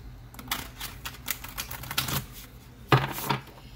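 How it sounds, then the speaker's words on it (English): A Priestess of Light oracle card deck is shuffled by hand, giving quick papery riffles and light taps in uneven bursts, then a sharper, louder snap near the end. "One more shuffle."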